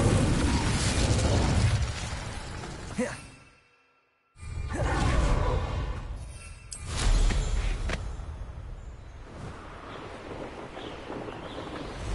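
An Incendio fire spell is cast during combat in the Hogwarts Legacy video game, with loud whooshing bursts and booming impacts, a brief silence midway, then more fiery swooshes and pops.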